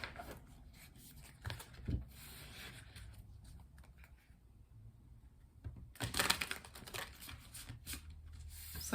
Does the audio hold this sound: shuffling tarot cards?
yes